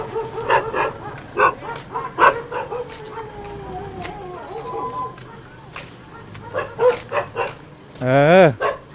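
A dog barks repeatedly in loud, uneven bursts, with yips and a whining howl at the end, mixed with people talking in a Thai village setting.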